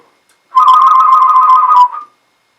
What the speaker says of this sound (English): I'm good at whistling.